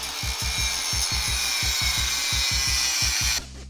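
A Tec Arts Fujitsubo exhaust pipe for an AE86 is trimmed with a saw in quick, rhythmic cutting strokes, loud and close. The harsh rasp stops abruptly near the end.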